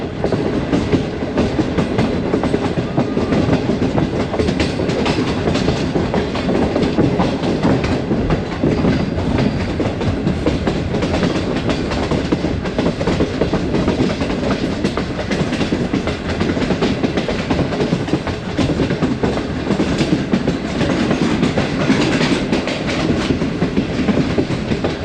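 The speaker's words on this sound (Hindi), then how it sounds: "दोस्तों आहिस्ता आहिस्ता ट्रेन हमारी रावलपिंडी शहर में दाखिल हो रही है" Awam Express passenger train running on rails into Rawalpindi city near Bakery Chowk: a steady, loud, continuous rumble of wheels with a rhythmic clickety-clack throughout, heard from on board with no talking.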